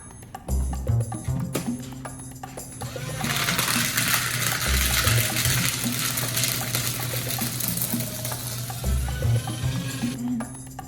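A paper shredder grinds through handwritten journal pages at a desk, starting with a low motor whir and clunks, then a loud, dense, close shredding rasp for several seconds before winding down, with no talking.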